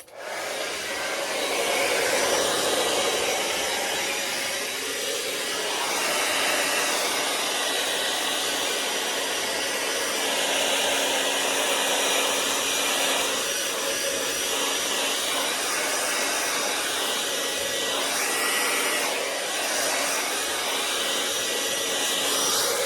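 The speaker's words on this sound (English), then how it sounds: "I could give it a little blow with the blower" A blower roars steadily and loudly, drying leftover paint skins, its airy rushing hiss continuous throughout with slight shifts in pitch and intensity.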